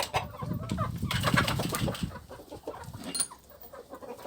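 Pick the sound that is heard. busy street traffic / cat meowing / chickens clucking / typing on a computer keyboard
chickens clucking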